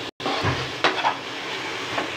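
A spoon scrapes and stirs a thick carrot and papaya halwa in a pan, with a soft continuous hiss of gentle cooking and a couple of sharper scrapes against the metal, heard up close with no talking.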